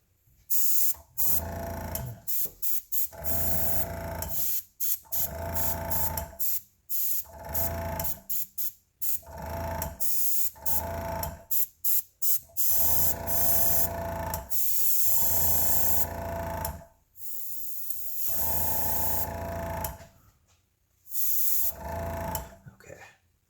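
An airbrush sprays paint in repeated short bursts of hissing, starting and stopping in an irregular rhythm, close and fairly loud.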